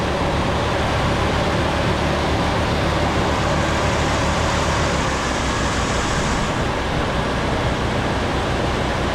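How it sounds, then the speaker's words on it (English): A 1977 Ford LTD station wagon, left sitting in a junkyard for years, runs with a steady, dense engine roar that stays close and even with no pauses and no voices. "Motor sounds pretty good."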